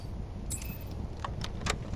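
Keys jangling in the video game FOBIA - St. Dinfna Hotel, a few short bright metallic clinks in quick succession over a quiet low hum.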